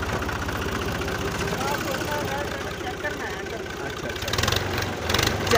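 A faulty tractor engine idles with a steady low knocking rhythm, growing a little louder near the end, while voices are faintly audible.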